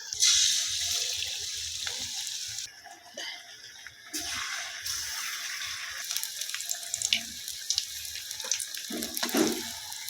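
Tap water runs steadily into a sink while sliced aubergine is rinsed, with splashes and drips breaking the flow for about ten seconds, close and moderately loud.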